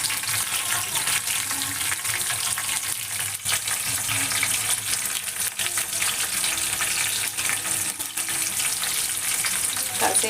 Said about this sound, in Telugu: పచ్చిమిరపకాయ వేసాను.